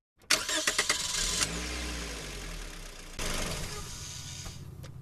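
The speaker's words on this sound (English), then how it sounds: "We'll start the engine twice." A car engine cranks and catches, idles briefly, then fires up a second time, loud and close; the run follows a fuel system safety procedure with a pressure gauge about to be fitted.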